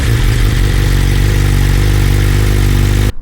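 A 2026 BMW M1000RR with a full Akrapovic exhaust and BT Moto tune idles loud and close, a deep steady throbbing rumble with strong low pulses, cutting off abruptly at the end.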